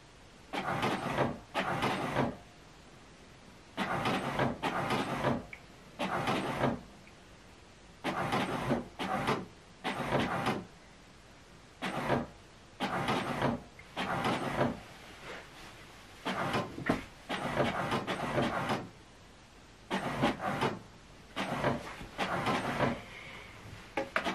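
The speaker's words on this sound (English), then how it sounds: "So this book we scan right now is printing." An HP DeskJet Plus 4120 inkjet printer prints a scanned book page, sounding as a long series of loud mechanical bursts from the print head and paper feed, separated by short pauses, close and continuous for the whole stretch.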